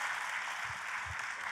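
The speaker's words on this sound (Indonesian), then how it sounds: "Tepuk tangannya pula yang paling meriah buat Tuhan kita" A church congregation claps together in steady, dense applause that fills the room without pause, with a couple of soft low thumps mixed in.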